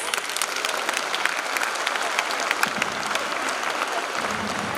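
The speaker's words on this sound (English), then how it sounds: "Please welcome them with a thundering applause, parents" Parents in a school audience give steady, enthusiastic applause as pre-kindergarten performers come on, a thick, constant clatter of many hands at even volume for the whole stretch.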